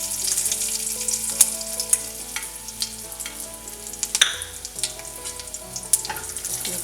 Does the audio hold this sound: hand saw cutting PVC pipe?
no